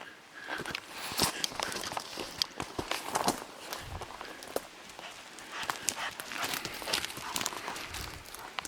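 Hunting dogs on a bear hunt in a rainforest, faint rustling and scrambling through undergrowth with footsteps and panting, close but quiet and without voices.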